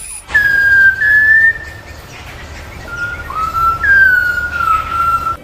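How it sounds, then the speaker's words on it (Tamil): A Malabar whistling thrush whistles clearly nearby in long, sliding, human-like notes, two drawn-out phrases separated by a short pause, over quiet outdoor background on a mountain trek. "இதோட பேர் மலபார் விசில் அடிச்சான் அப்படின்னு சொல்கிறாங்க."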